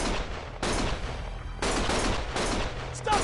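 Sustained gunfire in the video game Lost Judgment, loud overlapping bursts of shots coming in dense waves with brief lulls between, close and continuous throughout.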